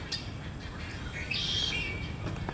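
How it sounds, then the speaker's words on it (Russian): Birds call in a Florida wetland, a bright chirping cluster rising over steady low outdoor rumble and background noise at moderate distance. "Птицы кричат."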